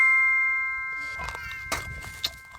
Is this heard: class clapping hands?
no